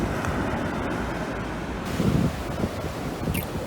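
Ocean waves washing onto a beach at the turn of the tide, a steady rushing surf with wind noise on the microphone and a slightly louder swell midway, no voices.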